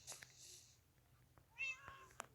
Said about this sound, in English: These cats will eat you.